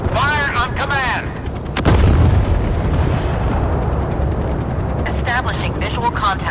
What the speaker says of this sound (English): Missile launched. I see a hit on the target.